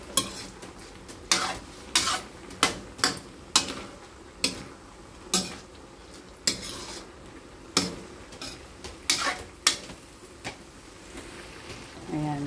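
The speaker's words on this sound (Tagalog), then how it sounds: "Halo-haloin lang po natin" A utensil scrapes and clacks against a pan while sautéed bottle gourd seasoned with bagoong is stirred, making sharp, irregular taps about once a second over a soft background, close and distinct.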